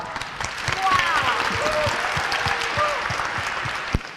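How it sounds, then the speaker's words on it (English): Audience applause at a university open house lecture hall, a steady wash of clapping sustained for several seconds at moderate level, with a few voices calling out over it. "Let's give her a round of applause."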